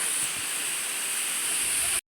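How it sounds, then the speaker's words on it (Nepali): Thangdi waterfall cascading as a steady, broad rushing hiss of falling water, close and continuous, with no voices. "यस्तो मजाले झरिरहेको छ झरना चाहिँ"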